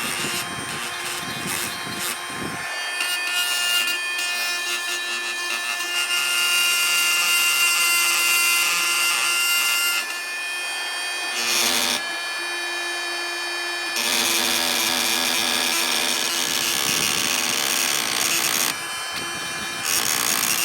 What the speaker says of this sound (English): One is heat, and the other is vibration using a multi-tool with the steel head on it.